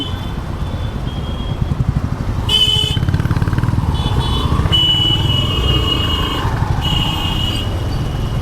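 A 110cc motorcycle engine drones steadily while riding on the road, with a steady low rumble and wind noise, loud and close throughout.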